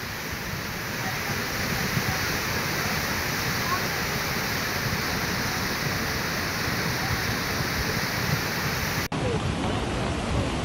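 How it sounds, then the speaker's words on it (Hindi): Floodwaters of the swollen Beas River in Kullu, Himachal, roar and rush continuously after heavy rain, a loud, dense, unbroken torrent filling the whole clip without a voice. "हिमाचल के कुल्लू में व्यास नदी देखिए कैसे रौद्र अवतार ले चुकी है।"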